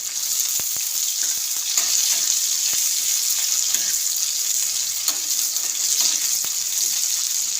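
Finely chopped onion sautés in hot oil for a pav and egg dish, a loud continuous hissing sizzle with scattered crackles and occasional light stirring clicks, no voices.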